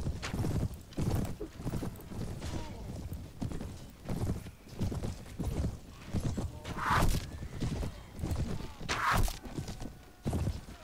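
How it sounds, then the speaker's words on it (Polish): Horse hooves clip-clop steadily in the Mount & Blade Warband video game, a brisk, continuous walking rhythm at moderate volume, with occasional faint whinnies. "Tam jest jakiś konik."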